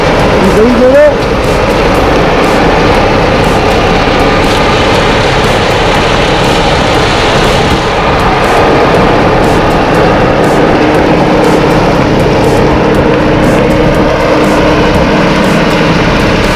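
A John Deere 5055E tractor engine drones steadily and loudly while a 10 ft RC10M rotary mower whirs along with it, continuous and close throughout.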